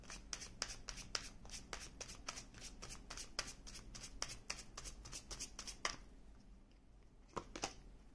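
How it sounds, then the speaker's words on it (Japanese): Tarot cards stacked and riffle-shuffled by hand, a long run of crisp rapid flicks and slaps in quick bursts, close and fairly soft, ending with a few separate taps. "ちょっとカード重ねますね"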